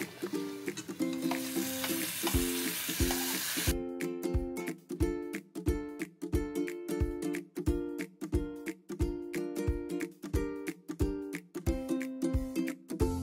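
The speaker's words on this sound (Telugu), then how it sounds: "ఇప్పుడు పన్నీర్ బాగా వేగింది క్యాప్సికమ్తో పాటు కలిపి." Paneer and capsicum fry in a pan, a steady sizzle broken by regular, rhythmic stirring and scraping strokes close by.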